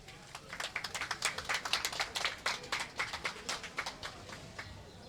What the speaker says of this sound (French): Sur vos applaudissements, mesdames et messieurs.